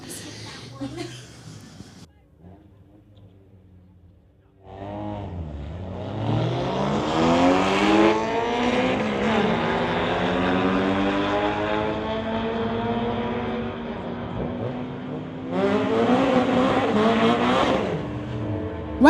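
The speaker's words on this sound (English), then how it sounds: "Integra versus Alexis are our next two vehicles up" Street-legal drag race with an Acura Integra launching against another car: engine roar surges in loudly after a quiet start, revving and rising in pitch through the gears, with a second burst of acceleration near the end and talk underneath.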